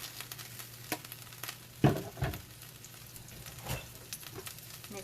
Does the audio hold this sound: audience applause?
no